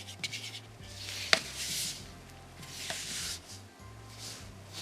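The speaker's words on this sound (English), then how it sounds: "I'm going to stir around till we get all that." A spoon stirs wet biscuit batter in a bowl, giving soft, continuous scraping and rubbing strokes with a couple of sharper knocks against the side, close and quiet.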